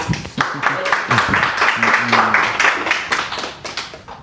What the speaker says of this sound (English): Round of applause, Rod